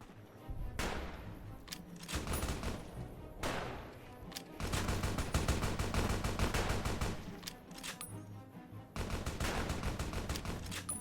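Gunfire rings out in Fallout: New Vegas while shooting through a fence: repeated loud bursts of rapid shots in several volleys separated by brief pauses, close and dominant, with no speech.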